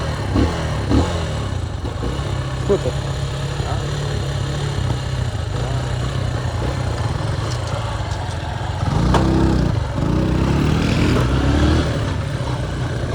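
A motorcycle engine runs close by, a steady low idle throughout, swelling into a louder rev near the end, with someone speaking briefly over it.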